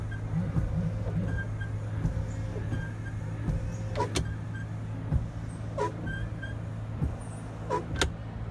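Windshield wipers on a Suzuki Mehran run at a higher speed, giving a steady motor hum under roughly rhythmic sweeping thumps about once a second, heard from inside the car with no talking.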